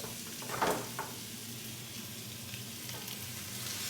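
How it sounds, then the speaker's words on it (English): Vegetables and meat sear in a pot for chili, giving a soft, steady sizzle with a couple of faint stirring scrapes near the start. "we sear the vegetables down, and I'm going to add back the meat"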